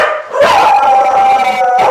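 A large young Akita, not yet a year old, howls loudly and at length in a drawn-out, wavering cry that rises and holds for about two seconds.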